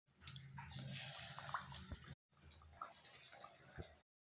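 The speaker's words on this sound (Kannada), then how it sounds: "ಬಾಳೆಕಾಯಿ ಪೀಸ್ನ ಒಂದೊಂದೇ ತಗೊಂಡು ಇದರಲ್ಲಿ ಈ ರೀತಿ ಡಿಪ್ ಮಾಡಿ ಇದನ್ನು ಎಣ್ಣೆಯಲ್ಲಿ ಬಿಟ್ಕೊಳ್ತೀನಿ" Pieces of raw banana dipped in bajji batter and frying in hot oil, giving a continuous bubbling sizzle that cuts out briefly partway through and then resumes.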